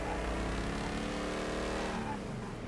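Car engine droning steadily while driving in Mafia III, a continuous mid-level hum with some tonal rise and fall throughout and no talking.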